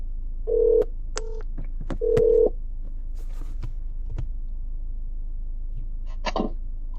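Telephone keypad tones on a call to a landlord: a few short steady dialing beeps in two quick bursts, followed by a brief higher electronic chirp near the end, with no talking.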